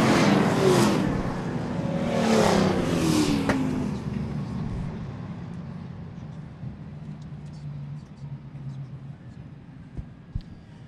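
Late model race cars at Seekonk Speedway roar past at the season opener's checkered flag, engines loud and near at first, then fading into a lower rumble across the oval while a voice talks over the PA.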